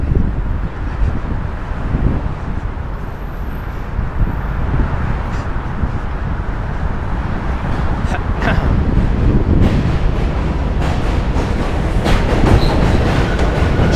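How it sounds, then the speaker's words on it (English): A New York City J subway train rumbles across the Williamsburg Bridge just below, a loud, steady roar with clattering wheels and metallic squeals, heard close from the bridge walkway. "J train's below us."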